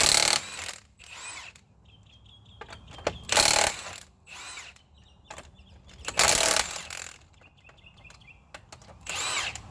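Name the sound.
19 mm socket wrench loosening lug nuts on Dodge Caravan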